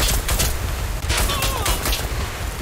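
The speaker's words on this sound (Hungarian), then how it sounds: "Közben kapom a lövést." Rapid bursts of gunfire from the video game Warface, played on a PS4 Pro, crackle in dense clusters at a loud, steady level with no pauses, filling the whole moment.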